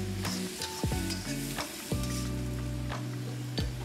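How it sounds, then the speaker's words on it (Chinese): Choy sum stir-fried with bacon, garlic and scallion in a wok, with loud steady sizzling and repeated scraping and clanging of the spatula against the metal, close and busy, no voices. "加适量盐、蒜末、葱片，翻炒30秒"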